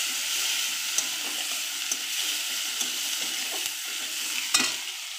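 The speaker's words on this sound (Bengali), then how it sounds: "দুটো পেঁয়াজ দিয়ে দিলাম। তো একটু ভাজা ভাজা হবে।" Two onions frying in a pan over a low gas flame, a steady bright sizzle with a few soft stirring clicks and scrapes throughout, close and with no talking.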